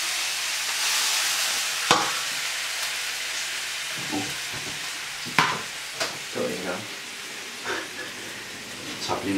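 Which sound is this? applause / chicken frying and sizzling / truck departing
chicken frying and sizzling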